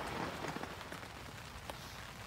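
Heavy rain pours steadily onto a winter camp shelter, a continuous close hiss with occasional louder drips and spatters and no voices.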